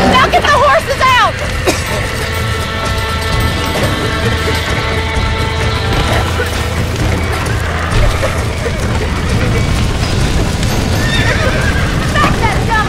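Horses whinny and neigh near the start, followed by steady clip-clopping hooves in a Red Dead Redemption game scene, with shouting voices and bustle over a loud, continuous backdrop.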